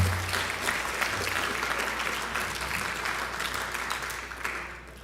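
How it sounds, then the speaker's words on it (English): A school awards assembly audience applauds the presenters with steady, dense clapping that fills the room, holding even and loud before tapering slightly at the end. "Can we have a round of applause for all the presenters that took time out of their day?"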